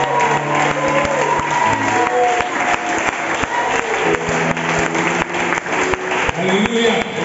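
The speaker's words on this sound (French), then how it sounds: "Il faut l'acclamer." Church congregation applauding and cheering together, with steady crowd clapping that holds loud and dense throughout, mixed with shouts and voices.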